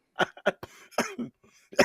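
A burst of harsh, repeated coughs, about five or six sharp hacks in quick succession, close and loud.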